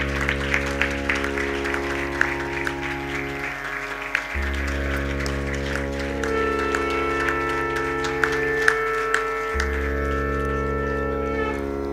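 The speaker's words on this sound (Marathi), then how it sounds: "सगळ्यांनी जरा जोरात टाळ्या वाजवाव्यात" Applause at a felicitation ceremony: continuous clapping from an audience, moderately loud, over a steady sustained musical drone that shifts pitch a couple of times.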